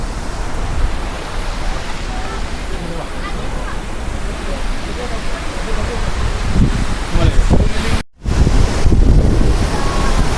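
Athirappilly waterfall roars up close as a steady, loud broadband rush of falling water, with wind buffeting the microphone and faint voices in the background.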